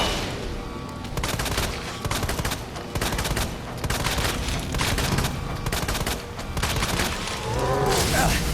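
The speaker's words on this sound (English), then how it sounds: "I'm gonna go ahead and throw a flashbang." A flashbang grenade goes off in Resident Evil 2 Remake amid dense in-game combat, with loud cracking bangs and rapid gunfire-like bursts repeating almost nonstop across the stretch.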